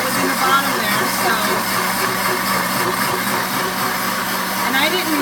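A Pampered Chef Deluxe Cooking Blender whirs steadily as it mixes a peanut butter milkshake, a continuous motor drone running the whole time with voices underneath.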